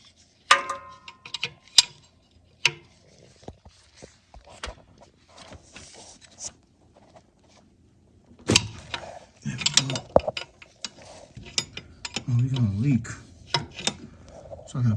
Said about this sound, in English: Takes a 3/4 inch wrench.